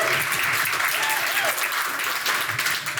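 Wedding guests applaud during the bride's speech, a short burst of steady clapping from a crowd across the whole moment.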